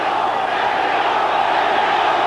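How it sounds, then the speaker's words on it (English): A large boxing arena crowd chants loudly and continuously for Chavez during the first round of a fight, a dense, steady roar of many voices. "Crowd chanting for Chavez."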